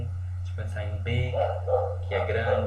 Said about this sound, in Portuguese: Perdão pelos latidos